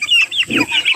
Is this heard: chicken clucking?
yes